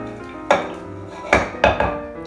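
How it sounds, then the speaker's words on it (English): Blueberry galette fruit filling tossed in a bowl, giving three or four sharp knocks and clatters of utensil against the bowl, separated by short pauses, close and fairly loud with no talking. "I'm gonna go ahead and give that a toss until it's all combined"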